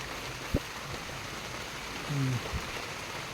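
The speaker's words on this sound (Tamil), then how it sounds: "நல்லா மழை வருது." Heavy rain falls outdoors on a banana plantation, a steady broadband hiss throughout, with a few brief voice fragments and a low thump near the start.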